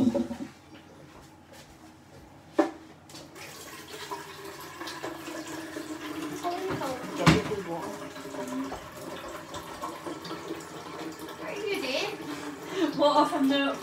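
Water from the fridge is poured at home on a school night, a soft trickling and splashing with a brief clunk early on, heard beneath nearby talk.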